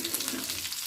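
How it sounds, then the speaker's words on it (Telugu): Salmon fish pieces frying in a pan as they are turned, a brief close sizzle with soft crackle. "ఇప్పుడు ముక్కలన్నిటినీ కూడా టర్న్ చేసేసుకోవాలి"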